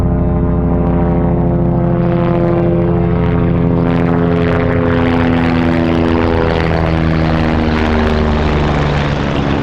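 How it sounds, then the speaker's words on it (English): An Army helicopter drones steadily overhead with a deep rotor thump and engine hum, loud and continuous throughout, no voices. "Oh, that's Army helicopter."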